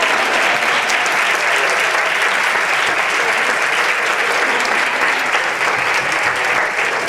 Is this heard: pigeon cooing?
no